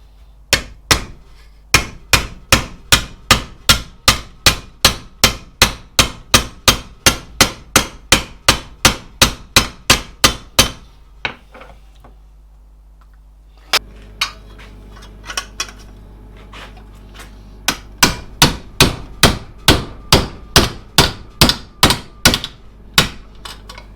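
Steady hammer blows ring out on a metal plate set over an anvil hardy tool, a long run of sharp, evenly spaced metallic strikes, then a brief lull with a few softer taps before the loud rhythmic hammering resumes.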